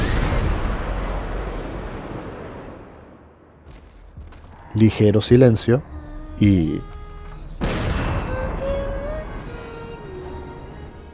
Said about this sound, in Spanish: Estos dos disparos son claves en la escena